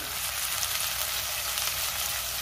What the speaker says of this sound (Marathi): टोमॅटो 2 ते 3 मिनिटं मी छान मऊ होईपर्यंत परतून घेणार आहे।